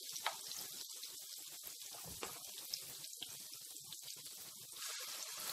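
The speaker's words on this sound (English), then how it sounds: "Make sure you fry it until the plantain is black." Ripe plantain slices frying in hot oil until black, giving a steady, fairly quiet crackling sizzle with dense bubbling and scattered small pops throughout, without talk.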